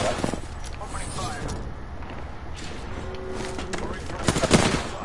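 Gunfire in the battle royale game Apex Legends, several bursts and single shots crackling through a busy in-game mix, with a louder cluster near the end, while a player talks over it.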